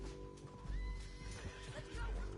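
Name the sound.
horse neighing in Red Dead Redemption 2 video game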